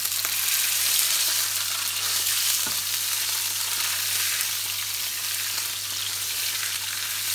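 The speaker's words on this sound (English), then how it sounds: "Now having to sear the meat is a bit of a pain in the ass" Meat searing in a Tower pressure cooker gives a loud, steady hissing sizzle up close, with one brief tap midway and a low electrical hum underneath.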